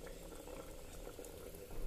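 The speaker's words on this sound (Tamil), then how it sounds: "அந்த அளவுக்கு தண்ணி ஊற்றி கொதிக்க விடுங்க" A pot of green gram and coconut curry boils on the stove, a continuous close bubbling and gurgling of thick liquid, steady throughout with no voices.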